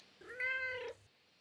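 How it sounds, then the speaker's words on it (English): A single drawn-out cat meow, recorded up close while the cat was teased with salmon. It sounds clear against a quiet background and lasts under a second. "So I'm using my cat's meow."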